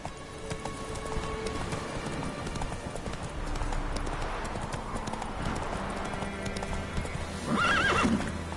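A horse gallops with steady clip-clop hoofbeats and neighs near the end, set in The Witcher 3 video game, with rain-like patter in the background and a voice urging it on briefly.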